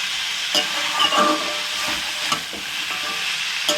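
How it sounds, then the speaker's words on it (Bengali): Turmeric powder being stirred into taro stolons frying with shrimp in a Bengali home kitchen, a steady close sizzle broken by several sharp spoon scrapes against the pan, with no talking. "দিয়ে একটু আবারও নেড়ে নেব"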